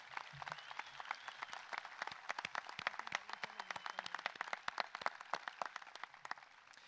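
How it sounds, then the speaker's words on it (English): At a high school graduation ceremony, a small audience claps for retiring teachers, faint and distant, with individual claps clearly separated in a brisk, uneven patter. "let's give these teachers a round of applause"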